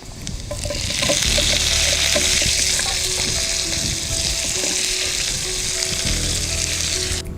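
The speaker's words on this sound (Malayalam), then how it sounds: "ഇനി നമ്മൾ അരിഞ്ഞു വെച്ച സവോള ഇട്ട് കൊടുക്കാം." Sliced onion hitting hot oil already holding ginger and garlic, a loud steady sizzle filling the pan with occasional stirring clinks, close and continuous with no voices.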